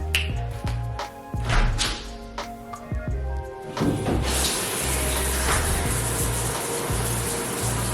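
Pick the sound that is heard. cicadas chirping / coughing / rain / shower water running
shower water running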